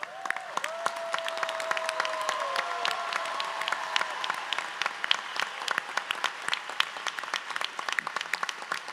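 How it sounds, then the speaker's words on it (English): A graduation convocation crowd gives steady applause for master's students with perfect grade averages at a Rutgers School of Management and Labor Relations ceremony, dense clapping throughout, with a brief faint tone early on. "Would these students please stand for a round of applause?"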